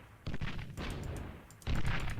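Units trade fire in the real-time strategy game Beyond All Reason. Three clustered bursts of crackling, booming shots come in close succession, fairly quiet overall.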